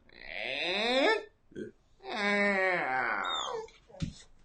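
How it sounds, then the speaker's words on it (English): A dog outdoors makes high, squeaky whining noises, with two long drawn-out whines and a few short yelps in between, fairly close and clear. "there's a dog outside"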